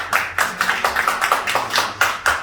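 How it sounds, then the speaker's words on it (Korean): Clapping from an audience at a concert event in Sinchon, Seoul, a dense run of many hands beating in a quick, uneven rhythm, close and steady throughout with no voices. "큰 박수 한번 쳐주시고"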